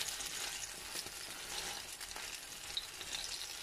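Aloo chicken kebabs coated in egg sizzling in a pan just after being turned over, a steady close hiss of frying with faint crackles and no talk.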